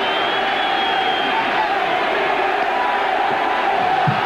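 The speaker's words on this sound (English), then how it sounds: "Crowd's enjoying it." A baseball stadium crowd roars steadily through the whole stretch as a manager is ejected, a broad, continuous wash of cheering and shouting at a distance with no pauses.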